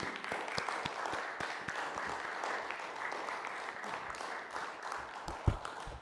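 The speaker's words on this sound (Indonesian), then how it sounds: "Sekali lagi kita berikan tepuk tangan yang meriah." An audience at an oil field production inauguration gives sustained, fairly distant applause, the dense patter of many hands continuing steadily throughout.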